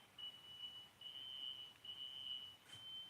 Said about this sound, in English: the fire alarm test, I guess